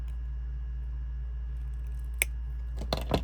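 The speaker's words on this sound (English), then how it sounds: "we're going to go ahead and we're going to cut off the excess." Jewelry wire trimmed with a cutting tool while making junk journal jewelry with seed beads: a single sharp snip, then a quick cluster of small clipping clicks, close and crisp over a steady low electrical hum.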